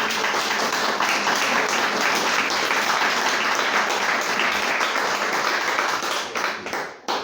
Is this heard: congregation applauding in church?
yes